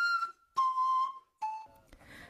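A flute carved from a vegetable plays three clear, breathy whistling notes in sequence, each a little lower than the last, followed by a brief softer flutter, with no voice.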